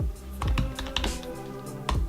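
Keys on a 13-inch MacBook Pro keyboard are tapped in a quick, uneven burst of close, crisp clicks as a password is typed.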